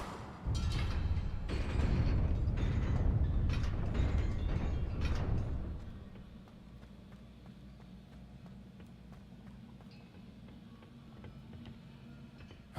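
A fire spell cast in the Hogwarts Legacy video game gives a loud, dense burst of roaring, crackling flame lasting several seconds, then cuts off to a quiet hum with faint clicks.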